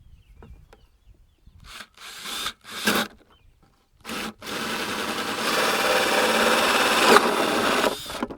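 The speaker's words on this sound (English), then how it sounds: "they gave us a hole saw with it. So all we have to do is drill this out" A hole saw grinds steadily through a plastic bucket, starting with short bursts and then settling into a continuous, close, rasping drone.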